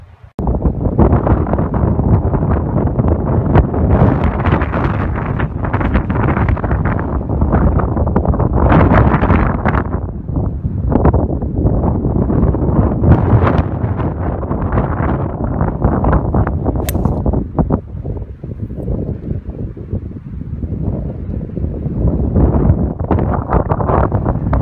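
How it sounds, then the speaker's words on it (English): Strong wind roars across a golf course at Royal Ascot Golf Club, heavy gusts buffeting the microphone in loud, uneven surges that rise and fall for the whole stretch. "I couldn't get the tripod to stay up in this wind"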